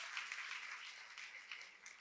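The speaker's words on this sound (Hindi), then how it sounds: "मैं चाहता हूँ कि आप जोरदार तालियों से अभिवादन करें इनका." Audience applause at an Ambedkarite doctors' ceremony, a steady burst of many hands clapping together for about two seconds, fairly faint and heard without speech.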